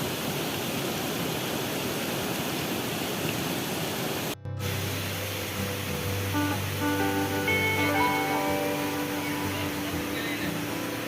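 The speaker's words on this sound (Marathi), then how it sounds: "नदी बघा तुम्ही किती पाणी स्वच्छ आहे" A clear river rushes steadily throughout near a small weir, broad and loud, with a brief dropout partway and some faint tonal sounds layered over the later part.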